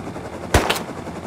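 A single sharp gunshot from a video game, loud and close, with a brief echoing tail before the steady background hum returns.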